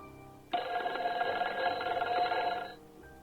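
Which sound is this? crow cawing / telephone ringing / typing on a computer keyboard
telephone ringing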